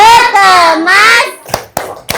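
Children in a classroom chant in unison while clapping their hands in rhythm for a going-home routine, with their voices loud and close, followed by several sharp, separate claps.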